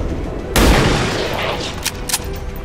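A soldier's gun firing in XCOM 2: one sharp, loud shot bursts in, followed by a trailing roar and a few smaller clicks, with talk briefly around it.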